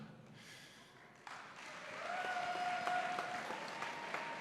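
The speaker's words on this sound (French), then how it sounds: "On le raccompagne, s'il vous plaît, sous vos applaudissements" Applause from an indoor horse show audience for a rider at a cross indoor event, starting modestly and swelling into sustained clapping, fairly distant in a large hall with a faint tonal hum running beneath.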